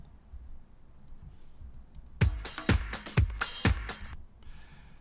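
After a quiet start, a short house drum pattern sliced into Logic Pro 9's ESX24 sampler plays: a few punchy kicks with bright clicky hats in a steady rhythm, ending quickly.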